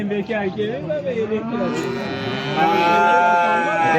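Cattle at a livestock market low repeatedly in long drawn-out moos, close and loud, with a steadier and stronger bellow toward the end and a busy market backdrop.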